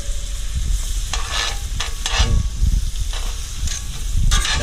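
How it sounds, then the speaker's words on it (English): Frozen butter with garlic and rosemary sizzles hard in a very hot pot for a cauliflower, garlic and cream soup, a loud continuous crackling fry with bursts of stirring scrapes layered on top. "Melting that frozen butter fast"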